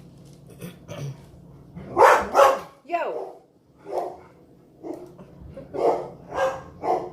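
Several dogs bark in bursts, some deep and some yippy, fairly close, with a man calling out briefly among the barks while he makes soap.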